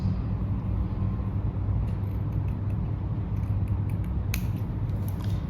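Scissors cut fabric along a marked sewing line, giving a few short, crisp snips over a steady low background rumble, close and moderately loud.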